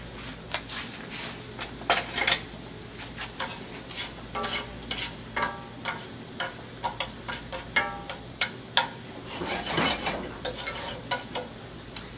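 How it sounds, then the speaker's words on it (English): Tablespoon of French gray sea salt being toasted and stirred in a frying pan, with irregular scraping and clinking strokes over a faint sizzle, close and alone. "putting a tablespoon of the gray sea salt, which is a French salt, into the frying pan and toasting it for a little bit"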